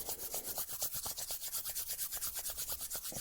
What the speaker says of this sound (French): frottons nos mains l'une contre l'autre assez vigoureusement pour que elles se réchauffent